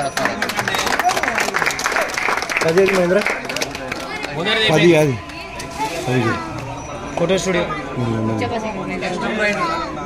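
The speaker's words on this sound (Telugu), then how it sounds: "అందరు గట్టిగా చప్పట్లు" A crowd at a senior prize-giving ceremony claps steadily, the applause blending with loud overlapping chatter and a speaking voice throughout.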